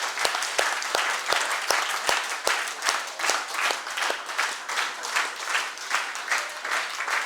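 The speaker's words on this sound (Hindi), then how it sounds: "प्रिंसिपल सर के लिए जोरदार तालियां।" At a school yoga workshop at Babu Lal Jain Inter College in Aligarh, the audience gives the principal loud, sustained applause, with many sharp claps that stay strong for several seconds.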